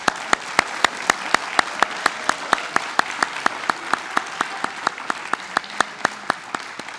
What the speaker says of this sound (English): We have another round of applause for our retirees.